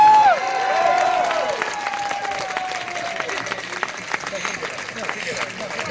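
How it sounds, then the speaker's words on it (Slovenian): Crowd applause and cheering at an outdoor victory celebration on Prešeren Square, a broad sustained wash of clapping and voices with a tone sliding down at the start, people shouting over it. "Še en velik aplavz."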